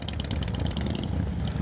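A large rally of Harley-Davidson motorcycles rides past on a Lands End run in Cornwall, with a continuous rumbling engine drone and a rapid ticking pulse on top, fairly loud and close.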